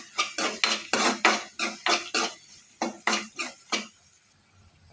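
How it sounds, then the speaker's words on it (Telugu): A spoon scraping and knocking rhythmically in a pan while mixing ingredients for an amaranth leaf curry, about a dozen quick close strokes before falling quiet. "ఇవన్నీ బాగా కలుపుకోవాలి."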